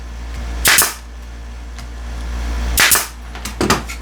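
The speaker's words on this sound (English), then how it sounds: "I'm going to shoot some brads in here." A brad nailer fires brads into wood while a DIY fall harvest tray is assembled, giving three loud, sharp, close pops spread unevenly over a steady low hum.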